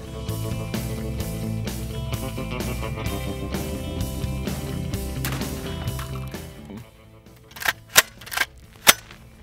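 Three sharp gunshots, fired with a fiber optic sighted gun at a Roku streaming device, crack out loud and well spaced near the end, after a stretch of music.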